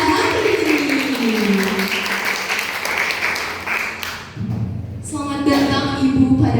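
An audience at a seminar applauds the speakers, a burst of clapping mixed with a presenter's voice over a loudspeaker, with thumps and a brief dip before voices resume.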